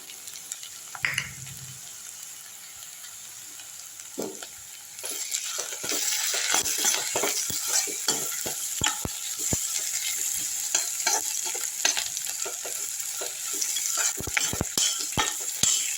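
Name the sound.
onions and curry leaves sautéing and stirred in pan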